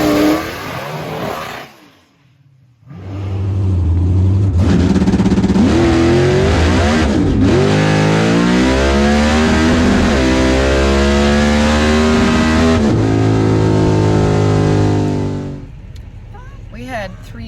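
NMCA drag race car on a test pass at Rockingham, its engine roaring loud and close in a long sustained rising pull after a brief idle and pause, then dropping off near the end.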